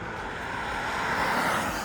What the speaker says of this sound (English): you'll hear a 3-cylinder thrum